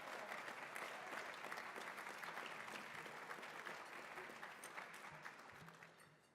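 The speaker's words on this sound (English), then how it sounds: "Give them all a round of applause." A large audience at an honorary degree dinner applauds continuously, a thick, steady wash of clapping from many hands that holds level and then slowly tapers off near the end.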